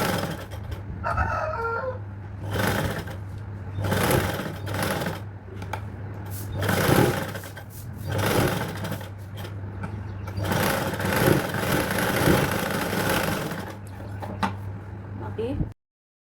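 Sewing machine stitching dress lining for a princess-cut dress with a belt, whirring steadily in repeated runs while someone talks over it and a rooster crows faintly in the background.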